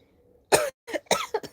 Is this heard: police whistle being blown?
no